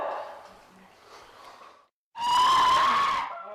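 A distressed person screams: softer anguished cries at first, then after a brief silence one long, loud, high wail held close up.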